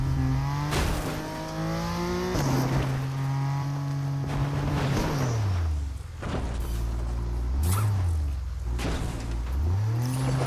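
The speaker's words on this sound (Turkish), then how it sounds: "inceden araba sesi duydum ama" A car engine in the Fortnite video game hums and revs steadily, its pitch climbing, holding and dropping through several shifts, loud and close throughout.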